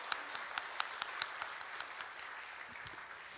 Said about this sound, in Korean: 우리 격려의 박수 한번 하도록 하겠습니다